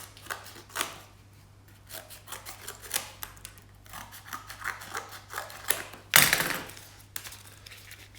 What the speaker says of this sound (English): using a pair of scissors, you just take off the corner